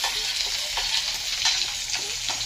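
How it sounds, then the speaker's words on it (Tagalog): Onions sauté in a pan for a chicken liver and gizzard adobo, giving a steady bright sizzle with soft stirring scrapes, close and continuous, with no talking. "Pagkatapos sibuyas guys, isahin natin yung sibuyas"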